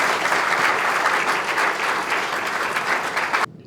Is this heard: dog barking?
no